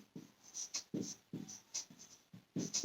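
A teacher writes an example sentence on a board, with a series of short scratchy strokes and taps in irregular bursts, close and fairly quiet, with no talking.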